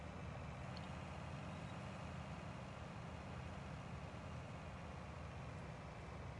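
A combine harvester in the Farming Simulator 19 video game runs with a steady, dense engine drone that stays even throughout.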